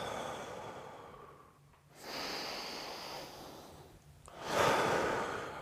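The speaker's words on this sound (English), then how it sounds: "Bring your breathing back to normal." Heavy breathing after an intense power yoga sequence, with a few deep, slow breaths close to the mic, alone with no talk.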